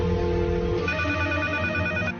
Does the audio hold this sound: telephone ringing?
yes